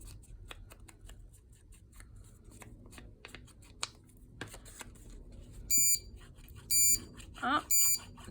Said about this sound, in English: Oh, there goes our timer.